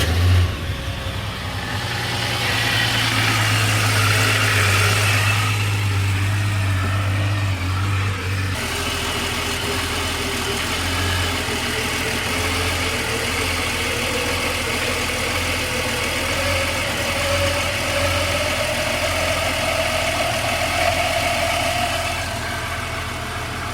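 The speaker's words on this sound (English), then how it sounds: "So I guess we'll have to start the engine" A 1989 Jeep Cherokee engine idles steadily up close, a low, even hum with a brief shift in pitch partway through, running continuously with no talking.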